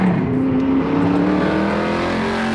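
A 1968 Ford Mustang Shelby GT500 with a 428 cubic inch Cobra Jet V8 roars steadily nearby, a loud, sustained engine drone that holds its pitch without pause.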